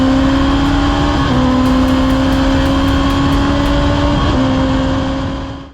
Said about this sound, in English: This is the Rush SR1. The first track-ready race car of its kind.